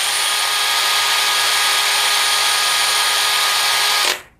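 DeWalt DCD805 cordless hammer drill spinning freely at speed 2, a loud, steady high-pitched whine with no load, held evenly for about four seconds before the motor cuts off abruptly.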